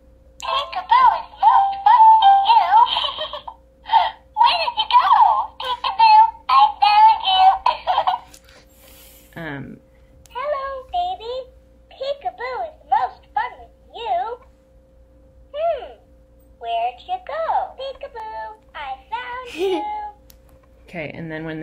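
A knockoff Flappy the Elephant plush toy plays its recorded voice and song, a long run of high, childlike electronic phrases that pause briefly before more sing-song bursts continue, close and fairly loud.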